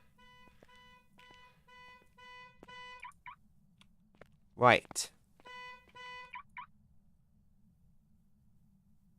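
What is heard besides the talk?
car alarm going off in video game The Long Drive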